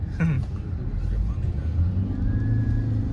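A Suzuki Swift with its Japanese engine drives along, a steady low rumble of engine and road noise heard from nearby, with faint background voices under it.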